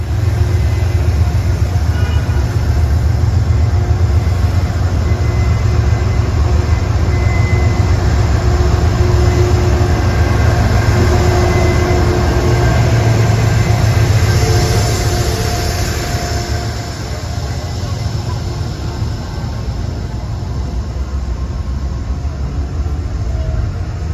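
A Metro-North train passes close by near Yankees–153rd Street, giving a loud, continuous rumble and rail roar that holds steady and eases slightly toward the end.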